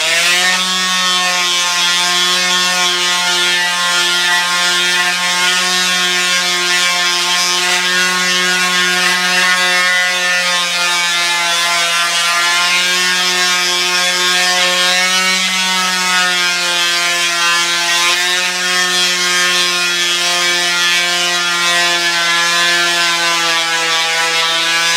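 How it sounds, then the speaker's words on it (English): Small orbital sander working over wood with roughly 120-grit paper, a steady, loud electric drone with a strong whine that holds unbroken for the whole stretch, no voices. "I'm going to go ahead and sand it down."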